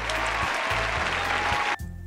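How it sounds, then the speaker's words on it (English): A short applause sound effect from the visual novel game Doki Doki Literature Club plays as loud, steady clapping over a soft looping music bed and cuts off abruptly near the end. "The four of us applaud."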